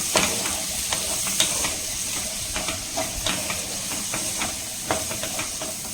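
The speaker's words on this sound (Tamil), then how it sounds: "இப்போ ஹை ஃப்ளேம் பண்ணிவிட்டு கேப்சிகம் சின்ன வெங்காயம் பச்சை பட்டாணி" Capsicum, shallots and green peas fry on a high flame in a pan, a steady close sizzle and hiss with scattered stirring clatters throughout.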